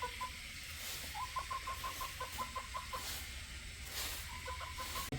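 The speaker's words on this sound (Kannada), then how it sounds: "ನಾವೊಂದು ನಾಟಿ ಕೋಳಿ ಸಾಕಿದ್ದೀವಿ" A native country chicken clucking nearby in quick repeated bursts, a short run of clucks followed by a pause and then a few more, over steady outdoor background noise.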